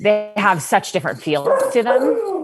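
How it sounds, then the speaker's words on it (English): Several pet dogs yip and bark in the background, mostly short sharp bursts near the start, heard under a woman's steady close conversational speech. "you can hear my dogs in the background"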